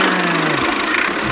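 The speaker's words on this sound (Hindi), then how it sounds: "हल्क मैंने अपने ट्रैक्टर से इस वाले ट्रैक्टर को बाहर निकाल दिया।" Tractor engine straining while towing another tractor out of a mud pit: a loud, steady rumbling drone with a low throb that drops away partway through, close and continuous with no talk.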